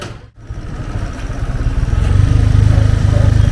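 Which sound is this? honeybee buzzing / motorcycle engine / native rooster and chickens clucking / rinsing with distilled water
motorcycle engine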